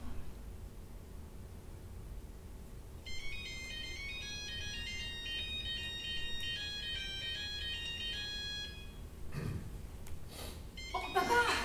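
A telephone rings with a repeating electronic melody that plays for several seconds over a hissy room background and then cuts off. Voices and shuffling follow.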